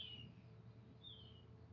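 Two faint, short bird chirps sound outdoors about a second apart over a quiet, low background hum.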